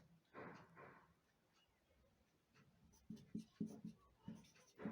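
Pen writing out a math solution on paper, soft scratchy strokes in irregular short bursts, close and fairly quiet, with a brief murmur of voice early on.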